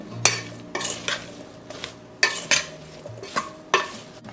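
Sheet pan dinner ingredients with garlic tossed together in a bowl to coat them, a series of close, irregular rustling clatters and soft utensil knocks.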